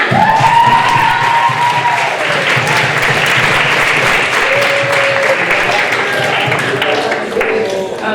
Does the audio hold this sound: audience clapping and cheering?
yes